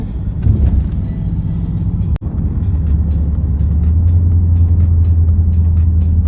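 A supercar with a bored exhaust and remapped engine drones steadily and loudly from inside the cabin, with a brief sharp pop partway through.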